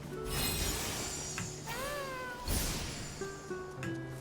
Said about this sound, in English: you can hear her meow